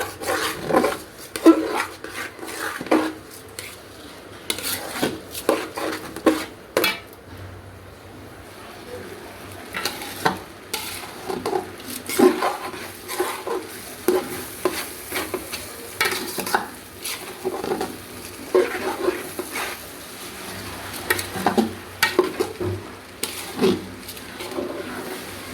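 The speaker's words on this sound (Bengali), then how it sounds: "চালটা একটু ভাজা নেব সুন্দর করে।" Broken rice with bay leaves is fried in a pan and stirred repeatedly. Gritty scraping comes in uneven bursts over a soft sizzle, with occasional clanks of the utensil against the pan.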